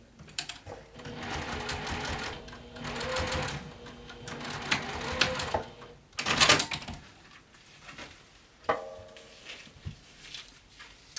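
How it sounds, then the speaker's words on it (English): A sewing machine runs in bursts of top stitching along a folded gusset seam of a small backpack, each run a fast mechanical whir. Quiet pauses and small handling clicks fall between the runs. "top stitch one more time 1/8 of an inch away from that folded edge"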